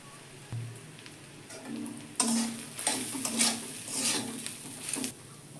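Shrimp paste and onion sizzle and crackle in a hot pan over a wood stove, with stirring scrapes close by and a loud burst of frying partway through. No voices are heard.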